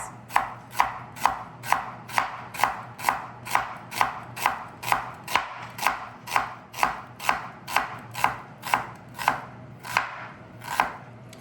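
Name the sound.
knife slicing food into thin slices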